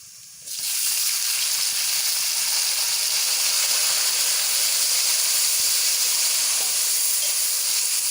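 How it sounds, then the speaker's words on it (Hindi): Tomatoes go into browned onions in a hot pan for matar pulao, and the sizzle breaks out suddenly as a loud, steady, close hiss that keeps going without a break. "अपने प्याज को इस तरह ब्राउन करके इसके अंदर टमाटर ऐड कर लेने हैं।"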